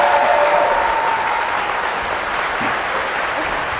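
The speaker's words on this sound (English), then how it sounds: "Audience, you can applaud now if you'd like." Applause from the audience at a 2018 Ohio gubernatorial debate: steady, dense clapping that fills the room at an even level throughout, with a brief tone near the start and no talk over it.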